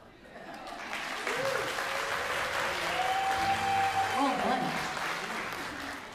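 A college rock ensemble's concert audience claps on cue from an applause sign, a broad wash of many hands rising quickly and holding steady for several seconds, with a sustained instrument note ringing underneath.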